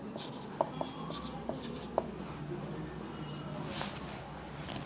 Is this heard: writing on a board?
yes